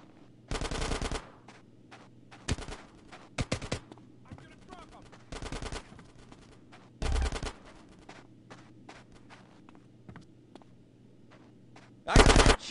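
Automatic gunfire in GTA San Andreas, several loud machine-gun bursts of about half a second each, spaced irregularly over a quiet background hum, with scattered single shots between.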